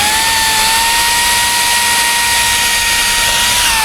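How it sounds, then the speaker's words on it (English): A steady, loud whine of an old electric drill with an 1/8 inch bit running continuously at a constant pitch, close up, pre-drilling metal roofing, with no talking. "I like to use this old electric drill."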